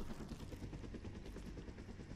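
In the SOS survival multiplayer game, a helicopter makes a steady, dense rotor and engine roar throughout, with faint rhythmic blade chop.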